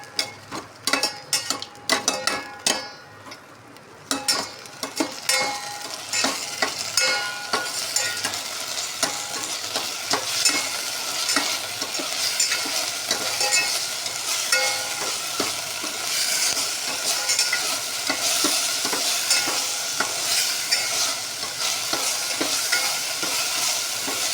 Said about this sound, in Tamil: இஞ்சி பூண்டு பேஸ்ட் போட்டுக்கலாம். போட்டு நல்லா பச்சை வாசனை போகிற வரைக்கும் வதக்கிக்கணும்